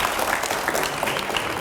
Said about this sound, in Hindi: जोरदार तालियां हो जाएं रैपिड फायर राउंड के लिए